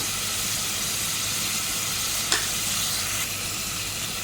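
Prawn kheema curry masala with turmeric and mixed spices being stirred in a pan: a steady sizzling hiss throughout, with one brief scrape of the spoon against the pan midway.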